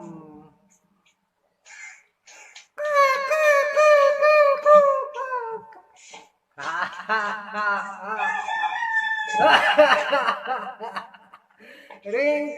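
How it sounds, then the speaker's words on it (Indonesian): A rooster-crowing ringtone from a spooky night-ghost ringtone collection plays as a loud, repeated harmonic crowing call in bursts, with chuckling voices and short gaps between phrases. "Ringtone setan ayam."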